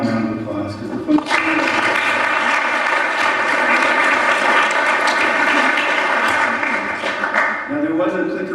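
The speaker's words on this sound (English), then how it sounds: "we should give them all a round of applause" An audience claps in a sustained round of applause at a talk on crude oil transport hazards, starting after brief speech, holding steady and loud for about six seconds, then tapering off as a voice resumes.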